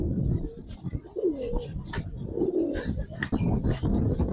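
A pair of Naptha pigeons coo close by in a few soft, rolling throaty calls, with brief chirps and handling noise between, and no other sound competing.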